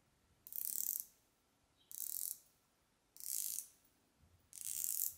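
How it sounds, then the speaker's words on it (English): The rotating bezel of a Phoibos Great Wall V2 dive watch, with 120 clicks, gives four short bursts of crisp, rapid ratcheting clicks, faint and close, separated by quiet pauses. "all 120 clicks sound very sharp"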